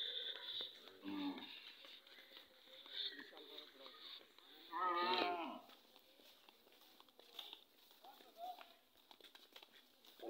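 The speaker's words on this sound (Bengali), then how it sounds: "সামনে তার একটা গরু আসতেছে।" A cow moos once, fairly near and loud for about a second, amid a busy rural scene with people talking around it and faint hoof-like clops in the background.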